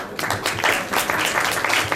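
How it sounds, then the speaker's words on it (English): Brief round of audience applause at a youth leadership event in Panaji, Goa, a dense, moderately loud patter of many hands clapping together. "So I would like to give them a round of applause."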